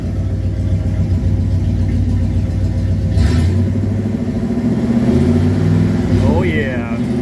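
A 1968 Chevrolet Camaro engine running steadily close by, with a deep continuous rumble and a slight rise in revs toward the end, while people talk over it.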